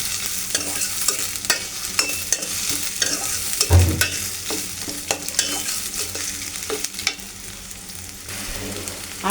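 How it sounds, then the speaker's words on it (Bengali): Onion and spices frying in a pan for a chicken and potato curry, steady sizzling with frequent scraping stir strokes and a single louder knock partway through. "আমি এখন পেঁয়াজ মশলা ভেজে নিচ্ছি।"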